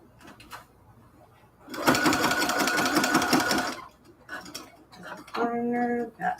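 Back stitching at the corner of a cathedral window quilt curtain, a sewing machine rattles in a close, loud two-second burst, then a shorter run after a pause and some handling clicks.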